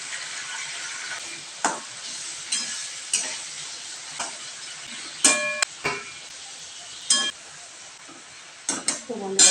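Onion fries in hot oil with a bay leaf and green chili, giving a constant soft sizzle broken by sharp, irregular clinks and scrapes of a utensil stirring against the pan.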